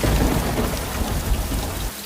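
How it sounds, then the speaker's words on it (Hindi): Steady rain pours down with a deep rumble of thunder rolling beneath it, a dense and continuous wash of sound with no voices. "अचानक बारिश शुरू होती है।"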